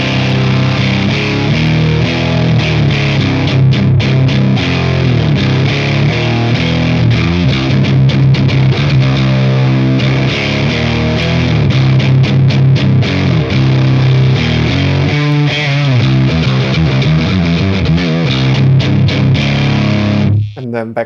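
An electric guitar plays continuously and loudly through a pedal set with highs boosted and mids cut, giving a dense, driven tone for about twenty seconds before it stops abruptly.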